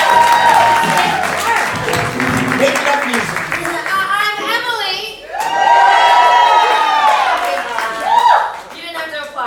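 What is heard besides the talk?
audience applause and cheering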